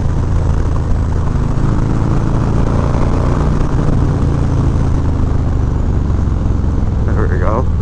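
Harley-Davidson Softail Low Rider S with a 114 engine, producing a continuous loud low rumble with buffeting wind noise, heard close while riding, with a brief voice toward the end.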